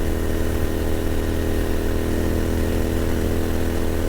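A Royal Enfield Continental GT motorcycle climbs an incline at full throttle, its engine holding a loud, steady, buzzing drone with strong low harmonics. The mic is close, and wind noise sits under the engine throughout.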